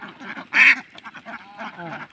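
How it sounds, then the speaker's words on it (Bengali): Ducks on a duck farm let out a loud nearby quack followed by a string of softer, overlapping quacks and calls from the flock. "এখন হাঁস রওনা দিচ্ছেন"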